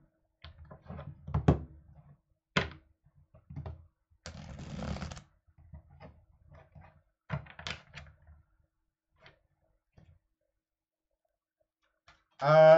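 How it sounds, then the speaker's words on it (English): Tarot cards shuffled in short bursts of riffling and slapping, several separate flurries spread across a quiet room with brief pauses between, close and moderately loud, followed by a louder burst at the end. "Let me shuffle and I will draw one tarot card for that day."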